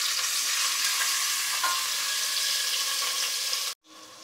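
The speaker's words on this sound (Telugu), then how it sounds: "పన్నీర్ వేగించుకుందాం" Paneer fries in a pan with a steady, loud sizzle and some stirring throughout, cutting off abruptly near the end to a quieter hiss.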